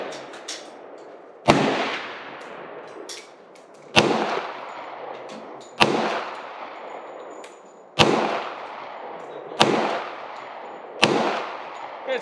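Six loud, sharp pistol shots from a Hi-Point JXP 10mm fired at an outdoor range, spaced a couple of seconds apart, each with a ringing echo tail.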